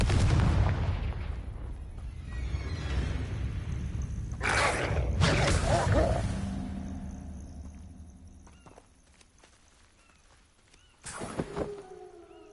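A Confringo explosive spell in Hogwarts Legacy goes off in a loud burst over a rumbling battle din, followed by a second sharp blast after a quieter stretch.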